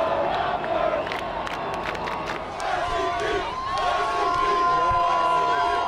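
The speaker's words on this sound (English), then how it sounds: "The crowd is crazy." Large outdoor crowd at a Raptors championship parade cheering and shouting continuously, with whoops, whistles and scattered nearby voices rising above a dense wall of noise that stays loud throughout.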